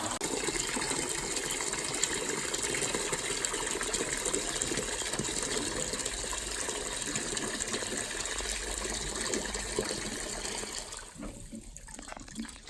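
Water gushes steadily from a water heater's drain valve, a loud, constant rushing flow that cuts off abruptly near the end.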